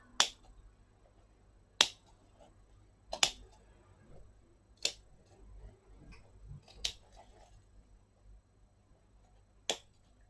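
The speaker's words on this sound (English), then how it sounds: "insert the scissors inside of the stitching and cut away the top fabric, which reveals the bottom fabric" Scissors snip through the top fabric of a coat inside the stitching in a reverse appliqué. Six crisp, isolated snips, close and quiet against a near-silent background.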